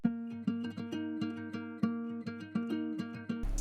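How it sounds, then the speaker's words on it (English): Freestyled accent guitar line with repeated plucked notes in a loose rhythm over a steady bed, close and fairly quiet, played alone. "It's just me freestyling on the guitar."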